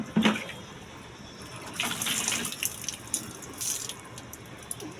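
Water runs and splashes from a pouring stream, with brief bursts and trickles rising and falling over a few seconds at close range, fairly quiet, no talking.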